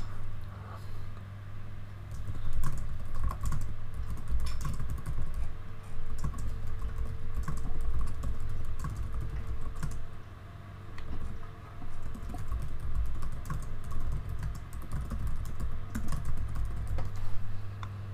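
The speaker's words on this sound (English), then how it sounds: "so you're gonna type in your keywords" Continuous rapid typing of keywords on a computer keyboard, a dense patter of light key clicks over a steady low hum and room noise, with no voices.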